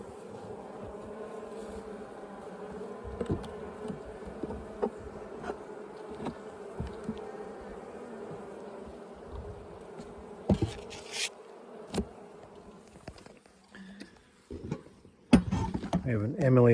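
Honey bees from a small package colony drone steadily around an open hive during a queen and colony check, a close continuous buzz with scattered clicks and creaks of frames growing busier toward the end.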